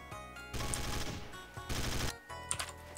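Rapid automatic gunfire in a video game comes in two loud sustained bursts separated by short pauses, followed by a few scattered sharper shots.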